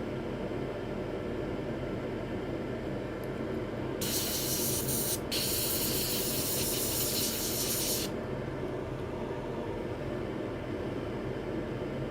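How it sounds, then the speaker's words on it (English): Compressed air sprayed into a PS5 console: a loud, steady hiss running about four seconds with a brief break, set against constant background hum and noise, with no talk. "Nothing like spraying air everywhere to make it look"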